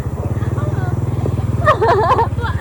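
A small motorcycle rides along a rural road after school on the way to water a vegetable garden, its steady engine putter close and continuous while people talk briefly over it.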